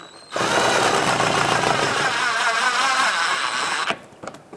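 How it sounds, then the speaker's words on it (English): A power driver runs the screw that holds the edge of a 2003-2009 Toyota 4Runner bumper, a loud, steady whirring burst lasting about three and a half seconds, then stopping with a few small clicks. "Go ahead and put up this screw that holds the edge of the bumper in."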